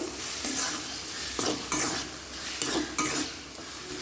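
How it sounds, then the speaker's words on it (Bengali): A spiced dal puri filling is stirred in a pan after ground cumin and garam masala go in. A spoon makes repeated scraping strokes over a steady, close sizzle, with no voices. "পরিমাণ মতো দিয়ে আমার নেড়ে চেড়ে দিচ্ছি।"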